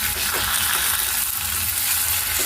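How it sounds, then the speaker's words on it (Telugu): Curry leaves and dried red chillies spit and crackle in hot oil for a tempering for Telugu-style dal with tomato, a steady close sizzle with a few sharper pops and no voices. "ఇప్పుడు కరివేపాకు కూడా వేసుకుందామండి. మంట సిమ్లో పెట్టుకోండి లేదా తుల్లుతాయి."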